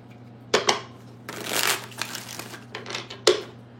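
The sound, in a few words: shuffling tarot cards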